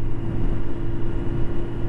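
Kawasaki Z1000 motorcycle at steady speed in 7th gear, a continuous low engine drone mixed with wind rumble, loud and even throughout with no talking.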